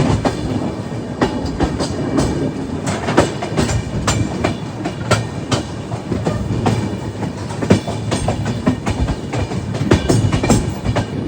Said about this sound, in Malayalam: ട്രെയിൻ അത്ര വലിയ സ്പീഡിലൊന്നും അല്ല പോകുന്നതേ